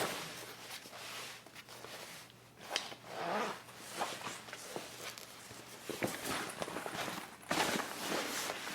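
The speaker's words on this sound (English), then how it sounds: "just open up your zipper" A zipper on a range bag being sewn is slid open in several quiet, close, scratchy pulls, with handling rustles between and no talking.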